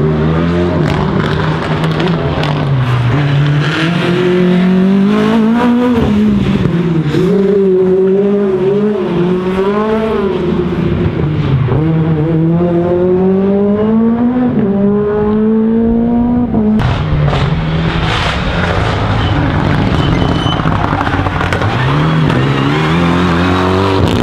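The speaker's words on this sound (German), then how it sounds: "Und das ist der Verfolger von Pedersen im Rennomegan, Carsten Mohr." A Renault Mégane rally car races flat out on a stage of the ADAC Wikinger Rally, its engine loud and close, rising and falling through repeated gear changes and revs without a break.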